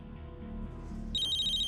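A phone ringtone in a Hindi TV serial scene: after quiet background music, a bright, rapid electronic trill breaks in partway through and keeps ringing loudly to the end.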